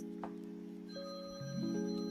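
A phone rings with a steady electronic ringtone, sustained tonal notes that shift upward partway through, loud and close with no talking.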